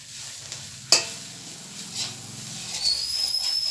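Onions and chili powder frying in a pan, a soft sizzle with a sharp spatula knock near the start and faint scraping and hissing afterward.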